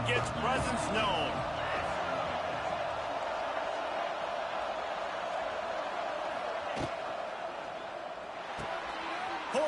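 A stadium crowd roars steadily in the NCAA 26 college football video game. The broad, continuous crowd noise sits under a play-by-play commentator talking throughout, with a couple of brief thuds.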